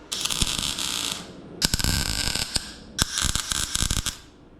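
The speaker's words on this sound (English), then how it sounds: "Let's get to welding." Welding on the wheel tubs of a Nissan S13 with a KA24DET engine: three long, loud, crackling bursts of welding, each stopping abruptly, with brief pauses between them.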